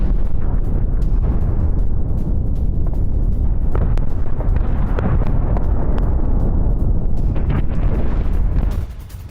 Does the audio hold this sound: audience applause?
no